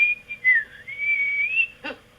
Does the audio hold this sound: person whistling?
yes